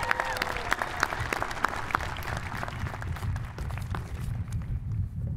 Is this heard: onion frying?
no